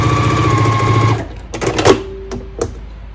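A sewing machine stitches different fabrics together for a quilt, giving a short steady mechanical hum for just over a second. It then stops, followed by a few scattered clicks and handling knocks.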